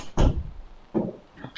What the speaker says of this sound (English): Let me close my door here real quick.